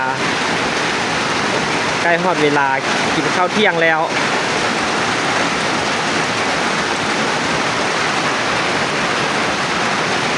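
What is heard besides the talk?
rain falling on rice fields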